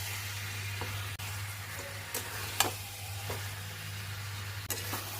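Mutton and pre-fried potato are stirred and browned in a pan, giving a low steady sizzle under a hum, broken by a few scraping stirs and clinks of the spoon; no voices.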